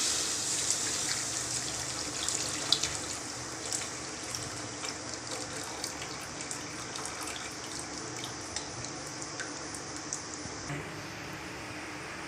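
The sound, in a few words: straining boiled jaggery syrup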